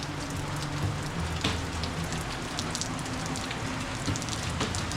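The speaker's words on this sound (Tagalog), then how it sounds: "grabe ang ulan day" Heavy rain pours down steadily, a dense hiss of drops pattering on surfaces with no voices, loud and close throughout.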